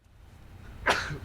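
A single sneeze bursts out near the end of a quiet, faintly humming room, sharp and close, then trails off quickly.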